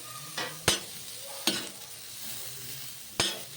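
Curry leaves and onion frying in a pan for a red pumpkin bhaji, a quiet sizzle punctuated by four crisp spatula knocks and scrapes at uneven intervals, nearby with no speech.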